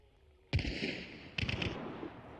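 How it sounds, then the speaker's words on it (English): A chaos bomb goes off in a first-person multiplayer game, a sharp blast at the start followed by a second cluster of rapid pops and crackles about a second later, loud and close with no talk over it. "No, it's a chaos bomb."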